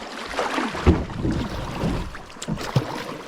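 A kayak is paddled on Sugar Creek: soft splashing strokes and water swirl, close and moderate, with wind buffeting the microphone throughout.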